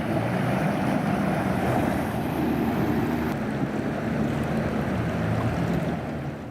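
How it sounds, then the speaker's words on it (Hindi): A boat pushing through floodwater on submerged roads in Nagaon, Assam, a steady rushing churn of water and wind buffeting, loud and continuous with no talk. "जिन सड़कों पर कल तक गाड़ियां गुजरती थीं वहां नाव चलती दिखाई दे रही हैं"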